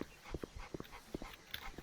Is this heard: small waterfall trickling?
no